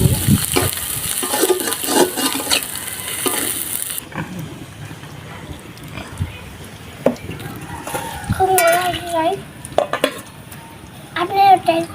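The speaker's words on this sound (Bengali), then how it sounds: "পেঁয়াজ এখানে হালকা লাল করে ভেজে নিয়েছি" Chopped onion and chili frying in oil in a pan, for a Bangladeshi village-style recipe, with a steady sizzle and scraping stirs of the utensil, heard close under intermittent talk.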